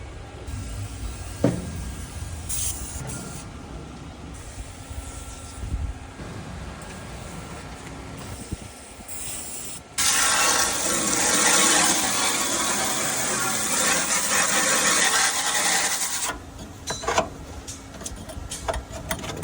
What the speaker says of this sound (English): Now inside the box here, got a bunch of grease. So we're gonna just hose this thing out.